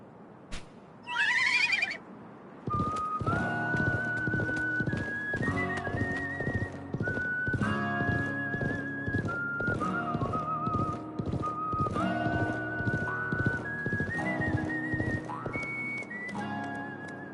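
A horse's hooves clip-clop in a fast, steady rhythm under tonal game music from Live A Live on PS5, with a brief whinny near the start.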